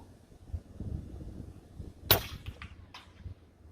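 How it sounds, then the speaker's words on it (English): A .22 Aselkon MX10S synthetic PCP air rifle fires once at plums 50 meters away outdoors in the wind: a single sharp, loud crack, then a few fainter ticks over low, steady wind rumble, with no talk. "I'm going to shoot those plums down there at 50 meters with the wind that's blowing"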